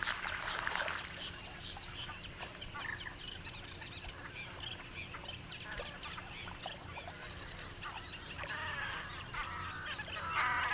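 Waterbirds diving for algae call with honking, goose-like cries, loudest in bursts at the start and near the end, over a soft wash of water and ambient noise at moderate distance.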